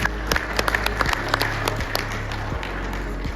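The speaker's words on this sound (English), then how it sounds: "is bigger applause to the MPC" Scattered, uneven clapping from a meeting audience at an expanded management meeting, with distinct sharp individual claps over a steady low hum, moderately close.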